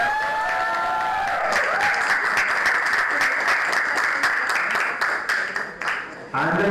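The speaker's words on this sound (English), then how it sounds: "A thunderous round of applause to the chairs and co-chairs." Audience at a school conference applauds the chairs and co-chairs, a loud sustained round of clapping that fills the space and tapers off near the end.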